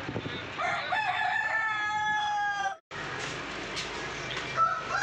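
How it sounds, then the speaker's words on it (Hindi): A Kadaknath fighting rooster crows loudly and close, a long strained call, then cuts off; clucking and farmyard chatter follow with some distant voices. "आह वेखो कड़कनाथ, ये लड़न वाला मुर्गा हुंदा कि ना।"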